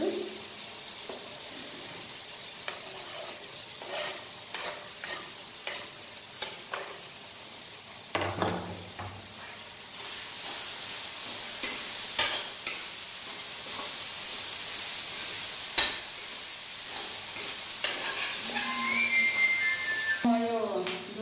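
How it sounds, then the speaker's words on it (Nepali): Tomatoes cook down in a pan as onion is added, giving a soft continuous sizzle with occasional stirring scrapes and clinks, close and moderate. "टमाटर गल्दैछ अब म यसमा प्याज लगाइदिन्छु"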